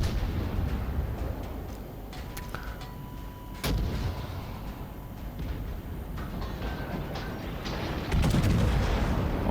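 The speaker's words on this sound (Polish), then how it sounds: "Ostatni strzał." Naval gunfire from a World of Warships match with the battleship Georgia firing on a Seattle cruiser: broadband booming salvos, one sharp loud blast near the middle and another heavy volley toward the end over steady rumbling battle noise.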